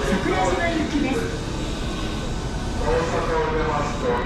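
A JR 323 series Osaka Loop Line train arriving at Osaka station: a steady loud rumble of wheels and motors under station ambience, with a platform announcement voice playing over the noise.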